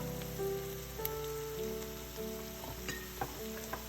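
Ginger and garlic paste sizzles in hot oil in a pan, a soft continuous hiss with faint crackles and a steady background hum, no talking.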